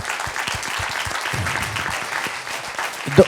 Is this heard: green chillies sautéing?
no